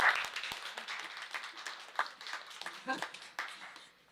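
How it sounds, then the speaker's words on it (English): Audience applause for the hosting arena at an evening public health storytelling event in New York City, fairly faint scattered clapping from a crowd, rising and falling in bursts. "Please also give them a round of applause."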